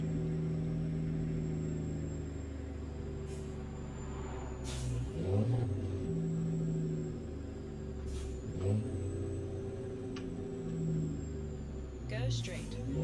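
A Freightliner FLC truck engine in American Truck Simulator drones steadily from inside the cab, a low continuous rumble broken by a few brief hissing air bursts and shifts.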